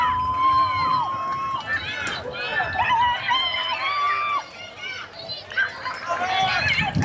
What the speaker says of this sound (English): The field right beside us, you can hear that loud cheering